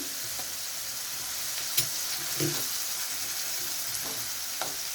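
Ginger garlic paste fries together with grated onion in a pan, a steady hissing sizzle broken by a few light stirring knocks, moderately quiet and unaccompanied by talk.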